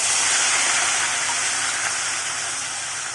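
Onions sizzle in hot ghee in a kadhai for chole, a steady, close, bright crackling hiss that continues evenly throughout without voices.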